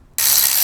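A ratchet wrench backs out bolts from the lower engine assembly of an auction-damaged boat, a close, loud burst of rapid, buzzing clicks that starts abruptly and runs steadily for under a second.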